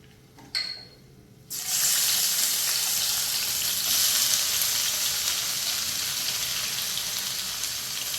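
Crushed garlic and shallots hit hot oil in a frying pan and erupt into a loud, steady sizzle after a brief clink, the crackling hiss holding evenly to the end.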